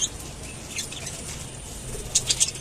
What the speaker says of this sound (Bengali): দেখছেন পাখিগুলো কিন্তু খাচ্ছে